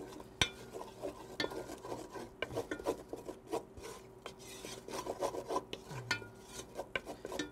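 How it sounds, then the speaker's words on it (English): Blonde roux for sausage gravy stirred in a pan, making soft irregular scraping and rubbing strokes against the bottom with occasional light clinks, close and quiet with no talking. "we're making a nice blonde roux. You don't want to brown it too much."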